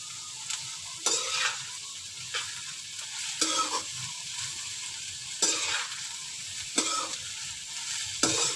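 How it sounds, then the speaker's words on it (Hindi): Onions frying in a pan for bitter gourd and onion curry give a steady close sizzle, broken every second or two by sharp scraping stirs, with no talking. "दरमियाना सा हमने फ्राई करना है, ज़्यादा नहीं करना। जब ये फ्राई प्याज हो जाएगा"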